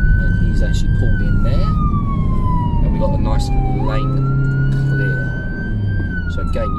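An ambulance on an emergency training drive sounds its siren, a loud wailing tone that slowly falls then climbs back up, repeating over a constant rumble of engine and road noise inside the vehicle.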